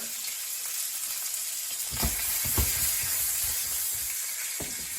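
Hake fillet pan-frying in a hot pan, giving a steady close sizzle and hiss with a few soft stirring or shifting clicks.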